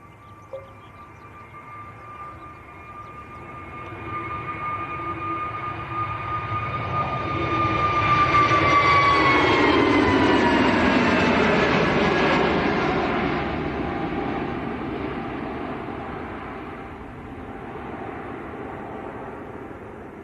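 An easyJet Airbus A320neo takes off at Manchester Airport, its jet roar swelling from a whining spool-up to a loud, broad rumble as it passes, then slowly fading into the distance.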